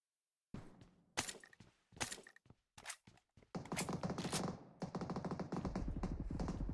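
Gunfire in the PUBG Mobile battle royale during a Turkey finals esports match: several sharp bursts and single shots, then sustained rapid automatic fire, loud and close, with no talking.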